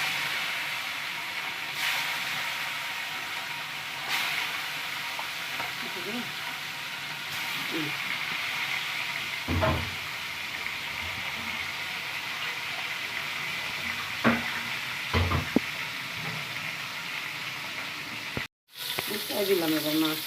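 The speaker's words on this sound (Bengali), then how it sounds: "মাছ দিয়ে দিলাম কড়াইতে।" Desi koi fish fry in hot oil in a wok, giving a steady, bright hiss with a few soft clunks and a brief cut near the end, heard up close.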